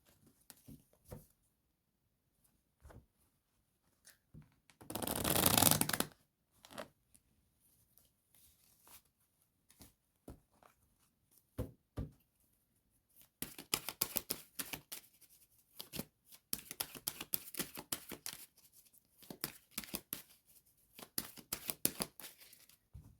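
A deck of playing cards is cut and shuffled during a tarot-style mirror card reading, giving a dense riffling burst near the start and later a long run of soft, rapid card flicks and taps, quiet and close.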